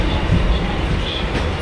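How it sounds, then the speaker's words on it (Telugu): A local train rolls toward Chennai Central, its steady broadband rumble and rattle filling the carriage at close range without a break and with no talk over it. "ఇంకా లోకల్ ట్రైన్ ఎక్కాం"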